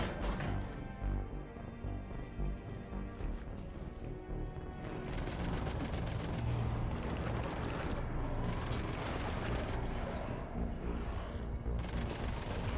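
Gunfire from the Mass Effect video game: rapid bursts of shots and explosions mixed with a game soundtrack, sustained and busy throughout the clip.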